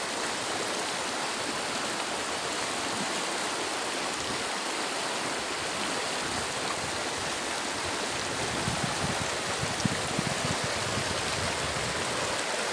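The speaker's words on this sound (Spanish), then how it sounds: "El río, la corriente, está bueno." The Mixteco river current near Huajuapan de León flows in a steady, broadband rush of water, close and constant, with some brief splashy surges toward the end.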